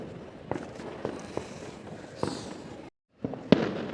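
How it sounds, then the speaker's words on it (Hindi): New Year fireworks and firecrackers burst outdoors in a string of sharp cracks and pops at irregular intervals, some near and loud, over a continuous crackling background, with a brief cutout before a louder final bang. "चारों तरफ पटाखे पटाखे छूट रहे हैं"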